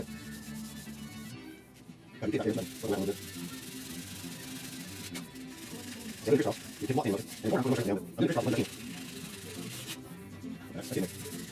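Block sanding of primer on the rusty roof of a 1969 C10 truck, heard as rough rubbing strokes in short rhythmic bursts, close, with someone talking in between.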